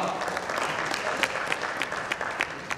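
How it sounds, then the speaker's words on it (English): Audience applause at a customer-experience summit panel in India, a dense, steady wash of clapping lasting the whole stretch with a few sharper individual claps standing out. "A big round of applause for Ms. Kumar."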